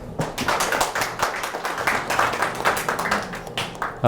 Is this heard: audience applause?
yes